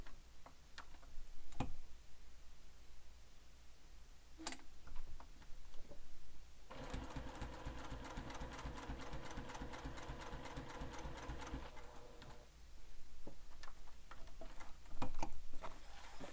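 A sewing machine stitches a Heartbreaker wallet with no back stitching, a fast even ticking run of about five seconds between quieter handling clicks and faint rustles.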